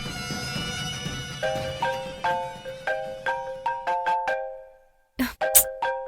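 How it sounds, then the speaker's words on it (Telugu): A phone rings with an incoming call, playing a loud, clear electronic melody of repeated chiming tones that stops briefly and then starts again, with no voices. "మళ్ళీ మళ్ళీ కాల్ చేస్తుంది."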